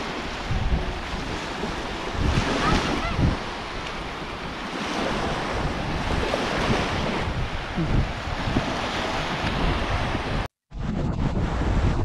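Ocean surf at Panama City Beach, Florida, washes in with a continuous roar of breaking waves mixed with gusty wind buffeting, with no voices and a brief cut near the end.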